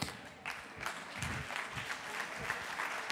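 A festival audience applauds the teams at a closing ceremony, a steady wash of clapping from a crowd with a few louder bursts, continuous and fairly distant throughout.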